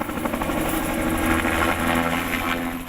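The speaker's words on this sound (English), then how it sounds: "The sounds of hard work and chopper blades are deafening." A helicopter's rotor blades thump in a rapid, steady beat, loud and close, with a roaring engine filling the air the whole time, at a logging site where cut trees are lifted out.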